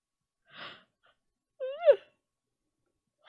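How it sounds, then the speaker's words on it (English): A man yawns in the morning while seated at a table among other patrons: a soft breathy intake, then a close, wavering voiced groan that rises and falls, with no talk around it. "I can't believe I'm yawning this much at 8:30."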